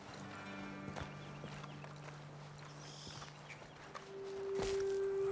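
Horse hooves clop at a walk as riders dismount in Red Dead Redemption 2, a steady close clip-clop under a low engine-like drone with a couple of louder thuds near the end.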